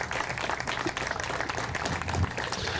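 Audience applause at the opening of the Hope Street homeless shelter, a steady, dense wash of clapping from a crowd that holds even and fairly close for the whole stretch.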